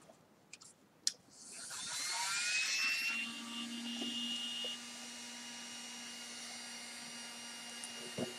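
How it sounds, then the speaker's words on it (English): A heat gun used alongside a shrink wrap machine blows with a strong rising whoosh, then drops to a quieter steady hum with a thin tonal whine. A couple of sharp clicks come before it starts. "you can use this machine in conjunction with a heat gun."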